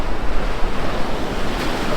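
Sea waves break between reefs along a shoreline, a loud, broad rushing wash mixed with gusty wind buffeting the microphone, with no voices.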